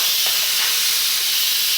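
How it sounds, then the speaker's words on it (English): Instant Pot quick-release valve venting steam, a loud, continuous, close hiss that holds steady without a break. "that will just release the steam very quickly"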